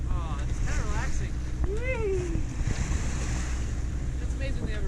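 Ocean surf and wind buffet a small cruising boat crossing a harbour bar, a steady loud wash of water and microphone wind noise throughout, with people talking over it.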